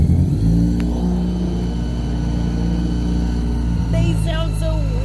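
A Datsun truck's engine runs loud and close, a dense steady rumble whose pitch climbs in a short rev near the end.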